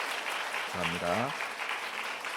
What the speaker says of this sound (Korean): 이런 의미로 박수해 주시길 바랍니다.